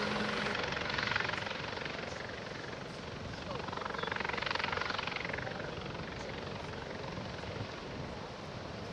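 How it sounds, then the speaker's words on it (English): A small plane taking off into a strong wind from a beach on Isle of Palms, South Carolina, after an emergency landing, its engine drone swelling and fading over steady wind noise, with voices now and then. "The plane taxied down the beach with a police escort to begin the takeoff"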